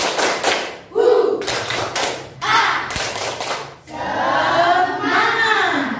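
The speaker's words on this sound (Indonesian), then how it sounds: "ayo, tepuk semangat" A standing classroom of students does a rhythmic spirit clap, loud bursts of patterned claps and thumps in repeated phrases, with voices chanting and calling between the bursts.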